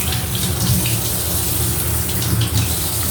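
Tap water runs steadily from a faucet in a home kitchen, a continuous close splashing gush with no breaks.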